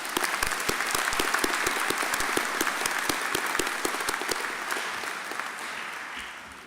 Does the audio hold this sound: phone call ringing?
no